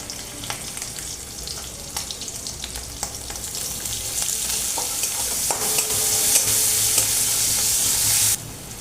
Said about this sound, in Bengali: এবারে দিয়ে দেবো একটু পেঁয়াজ কুচানো।